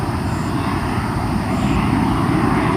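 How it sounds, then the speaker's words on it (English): Airplanes pass overhead near Hampstead, North Carolina, giving a steady, loud, broadband engine roar that holds without a break, with no talking. "Planes are like background noise, it's fine."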